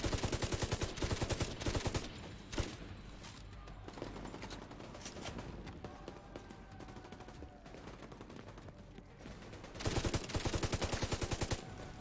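Rapid bursts of automatic gunfire in The Division, a near, loud stream of shots with sustained firing in the middle and dense volleys at the start and end.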